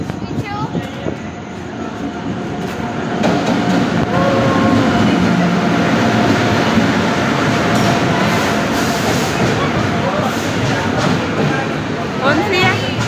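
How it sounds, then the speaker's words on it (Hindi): A long-distance passenger train on the Bandra–Ahmedabad route pulls into a station platform, its broad rumble and rail noise swelling after a few seconds and holding steady, with crowd chatter and station bustle mixed in. "तो गाइस ट्रेन हमारी आ चुकी है, रुक जाओ।"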